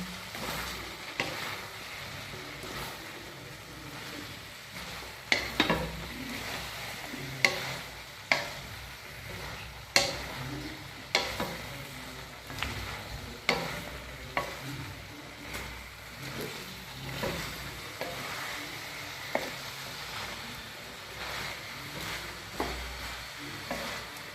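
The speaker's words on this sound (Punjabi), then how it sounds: "ਤੇ ਗੋਭੀ ਅਤੇ ਤੜਕਾ ਲੱਗ ਗਿਆ ਜੀ ਗੋਭੀ ਨੂੰ" Chopped cauliflower stirred in a pan of hot spiced tempering, a steady sizzle with repeated scraping strokes of a spoon at a regular rhythm, close and moderately loud, no talking.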